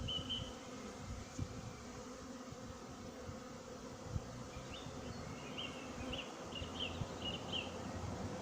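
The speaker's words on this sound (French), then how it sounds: "Je vois des abeilles sortir là." Honeybees from a colony living in a chimney in Brunoy make a soft, constant buzzing hum, faint and close, with a few higher buzzes passing by and no talking.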